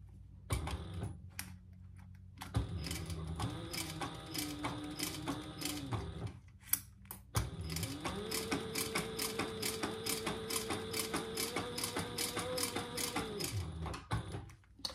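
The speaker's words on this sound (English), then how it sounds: "So I am top stitching on this side because that's going to be the top of my handle." Sewing machine topstitching a bag handle, several bursts of rapid mechanical stitching with a humming motor, one short run then a longer steady run, separated by brief pauses, close and clear.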